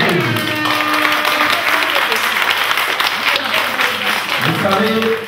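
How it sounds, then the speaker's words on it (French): Loud, dense audience applause at an event in Belgium fills the whole stretch, steady and close, with a few voices calling out within the clapping. "Applaudissé très fort pour la Belgique."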